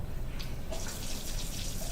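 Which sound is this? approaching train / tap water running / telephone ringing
tap water running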